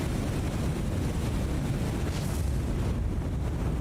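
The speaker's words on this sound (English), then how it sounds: "there are some explosions somewhere" Distant explosions in the naval combat game War on the Sea, heard as deep, muffled rumbling within a steady roar of wind and sea noise, with a slight swell partway through.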